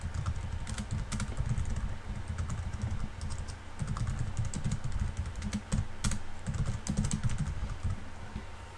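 Steady typing of code on a computer keyboard, a continuous patter of close, moderately loud key clicks with brief pauses, no voices.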